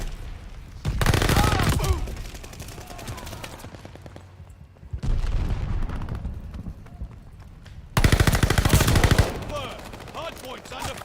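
Sustained machine gun fire in the Call of Duty Vanguard shooter game comes in three loud, dense bursts, each lasting a second or so, separated by quieter stretches of battle noise.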